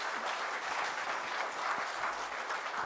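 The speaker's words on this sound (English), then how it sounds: "And one last time, you can clap." A crowd at a Bangalore windows showroom event claps after a presentation, a soft, even patter of many hands heard from a distance and sustained without a break.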